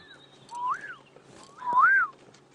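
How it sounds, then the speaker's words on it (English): A small canary calls nearby in the early-morning African bush, giving two loud rising-and-falling whistled notes about a second apart over quiet background. "we can hear another bird off to the right making lots of noise. That's a little canary."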